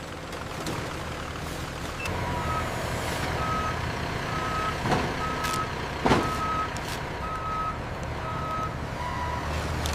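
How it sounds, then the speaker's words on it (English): Trucks at a loading area with a steady, evenly spaced reversing beeper repeating over a low engine rumble, plus a couple of sharp air-brake hisses, close and fairly loud, with no talking. "The trucks travel across highways."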